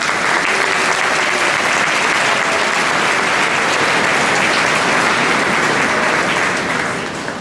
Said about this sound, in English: So if you can round of applause for Dr.